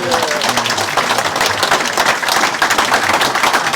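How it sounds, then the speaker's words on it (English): Close, dense applause from a club audience at an evening gathering, brisk clapping that holds steady throughout. "I think we should give him a round of applause, shouldn't we?"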